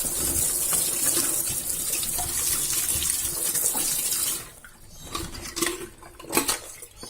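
Tap water runs steadily into a container for several seconds, then cuts off, followed by a few clinks and splashes of dishes being handled.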